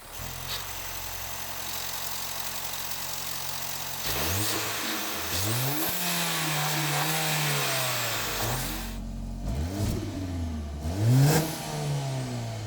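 A 2024 Mercedes-AMG GLA's active exhaust in regular mode idles with a low rumble, then revs up twice, rising and falling in pitch, with no one speaking.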